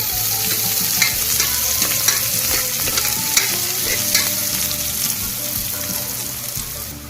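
Finely chopped ginger and three garlic cloves sauté in a pan during chicken curry prep, a loud, close, continuous sizzle with brief scraping stirs running throughout.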